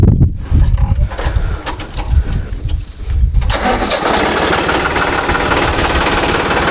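58 HP two-wheel-drive tractor set up to pull a hydraulic three-disc plough, its diesel engine heard close and loud as it cranks with knocking pulses for a few seconds, then catches and settles into a steady running rumble.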